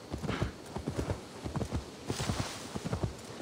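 Horse hooves clop in a quick, even rhythm on the ground in Assassin's Creed Valhalla, a close steady gait lasting the whole stretch with a faint background ambience.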